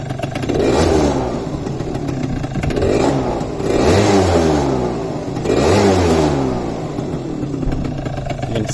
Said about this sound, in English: I'll give her a rev now once she warms up so you can hear the crisp of the two-stroke.